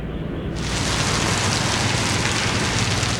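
Heavy rain beats down steadily on Baton Rouge as Hurricane Katrina first arrives in August 2005, a dense, loud, unbroken hiss that swells to full strength within the first moment and holds without any voices.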